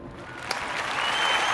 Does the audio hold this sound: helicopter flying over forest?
no